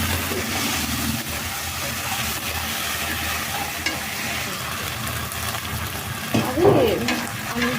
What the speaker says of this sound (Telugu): వేసుకుని వేసుకోవడము వేసుకొని ఫ్రై చేసుకోవడము